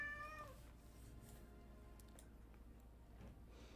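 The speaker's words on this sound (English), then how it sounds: "My cat's she's spooked by something, I think. There's another cat at the door now." A spooked house cat meows in a short tonal cry at the start, faint and close, followed by quiet room ambience with a few small ticks.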